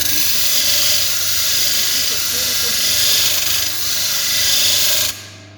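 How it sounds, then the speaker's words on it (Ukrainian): A grinding machine grinding a metal plate in weld preparation whines steadily at a high, harsh pitch, holding a continuous loud drone with slight dips before stopping abruptly near the end. "Ми це можемо усунути за допомогою шліфувального станочка."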